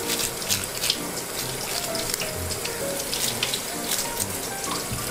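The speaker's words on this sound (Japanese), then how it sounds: "これあとは洗い流していきましょう。" A strong, steady stream of tap water runs to rinse the head of a large moray eel during butchering. Splashes and small knocks sound under the constant flow, and no one speaks.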